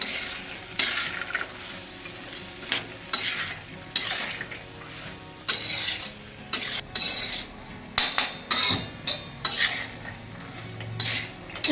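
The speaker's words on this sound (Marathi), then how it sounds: "भरपूर कोथंबीर टाकून द्यायची मस्त आणि हलवून घ्यायचं" Chickpea curry with fresh coriander being stirred in a pan, repeated loud metal spoon scrapes and clanks in irregular bursts over a soft ongoing simmer.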